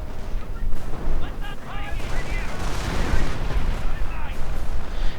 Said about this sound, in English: Mortars firing